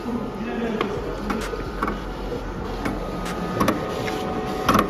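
A cutting plotter cuts vinyl wrap film for an RS3, whirring steadily with a string of sharp, evenly spaced clicks and ticks as the blade moves, with faint talk in the room.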